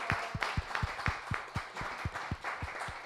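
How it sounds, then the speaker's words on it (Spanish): A few people clap in a radio studio, a steady burst of close hand claps lasting a few seconds with no talk over it. "Dense un aplauso"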